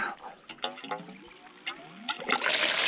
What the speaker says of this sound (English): Oh dear, I'll turn the water on.